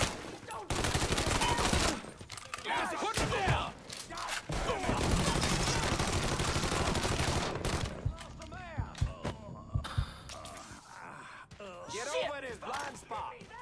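Rapid bursts of gunfire from the video game Mafia 3, loud and dense for the first half, then scattered shots and clatter with a voice reacting over the action.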